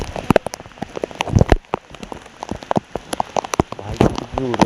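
Heavy rain pounding down on a surface, a dense steady patter with sharp drop hits throughout, fairly loud and close; no clear speech.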